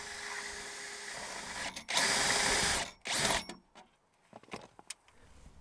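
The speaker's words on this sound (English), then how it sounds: "drill the end with a 5/32 drill bit, just enough so the end can be squished" A power drill with a 5/32 drill bit bores out a rivet on a Toyota Corolla door panel, whirring loudly in two short bursts, followed by light clicks and rattles of the tool.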